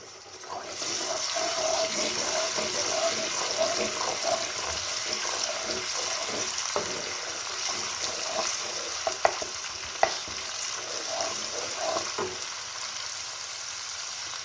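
Ginger, garlic and green chilli paste frying in hot oil in a pan, a steady sizzle and hiss with scattered stirring clinks and a couple of sharp knocks, no talking.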